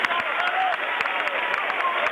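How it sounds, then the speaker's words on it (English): At a high school basketball game, a crowd applauds a player heading back to the bench, a steady wash of clapping under a play-by-play commentator's voice. "Jones receiving applause, coming back to his bench."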